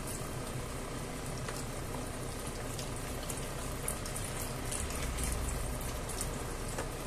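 Meat and vegetable broth pours steadily into a pan of Spanish savoury rice with peas, a continuous close, bubbling wash of liquid that holds at an even level throughout.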